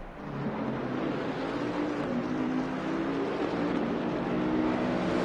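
A Porsche race car engine drones in a racing game session at Donington Park, a steady loud roar that rises slightly in pitch over several seconds, with no speech over it.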